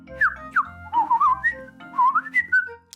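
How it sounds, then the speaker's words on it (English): A cartoon character whistles a wavering, playful tune in several short rising and falling phrases, clear and close, with no talking. "Now flap your arms like a bird and whistle."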